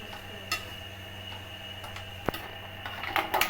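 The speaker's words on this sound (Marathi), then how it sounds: "हे इथे याच्यावरती झाकण येईल, त्याच्यावरती आपण झाकण ठेवू" A metal lid is set onto a cooking pan in a home kitchen, giving one sharp clink near the middle over a low steady hum, with faint small clatters around it.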